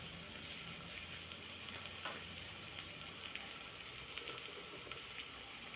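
Onions fry in a pan for a Senai Kizhangu Varuval yam dish, giving a faint, steady, continuous sizzle with light crackles and no break in the sound.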